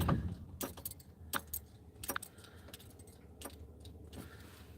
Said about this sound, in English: We can turn the car off.